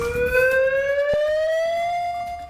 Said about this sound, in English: New sirens in Carnation that could save lives if the Tolt Dam fails